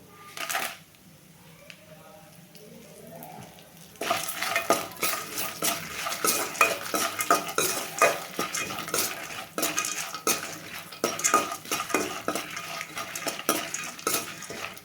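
A spoon clatters steadily against a pan while radish chutney ingredients, including dried red chillies and coriander seeds, fry and sizzle, the scraping strokes coming quickly and close up after a quieter opening.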